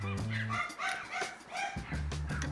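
Dogs penned in a backyard across the street bark in scattered bursts, fairly faint and distant, mixed with other background sounds.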